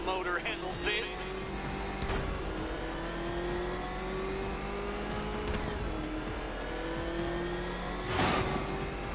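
The Batmobile's engine revs and roars in Batman: Arkham Knight, a steady, rising mechanical drone broken by sharp surges and bursts, while a character's voice speaks over the driving.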